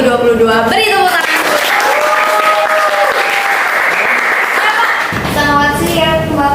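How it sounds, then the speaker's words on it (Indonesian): An audience at a Jakarta high school show applauds guests in a full burst of clapping that swells through the middle, while voices are heard at the start and end. "Beri tepuk tangan."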